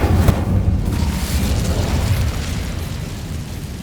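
An Incendio fire spell from Hogwarts Legacy goes off as a loud, close roaring burst of flame that rumbles heavily and keeps burning with a dense crackle for several seconds, with no talk.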